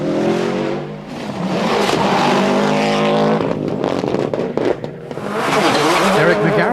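A rally car races flat out along a tarmac stage at the Killarney Rally of the Lakes, its engine roaring loud and close with revving surges and a brief lift in the middle.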